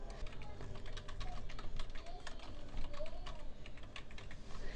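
Typing on a computer keyboard, a quick, irregular run of light clicks at a close, moderate level against a soft background.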